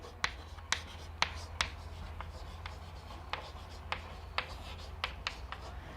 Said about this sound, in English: So I am writing answer